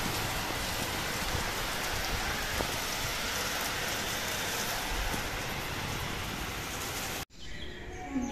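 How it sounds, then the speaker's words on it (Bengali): Steady rain pours down over a rooftop, a dense even hiss that fills the air for several seconds before cutting off abruptly near the end, leaving a quieter patch of lighter dripping. "বৃষ্টি শুরুও হয়ে গেল, কি সুন্দর লাগছে"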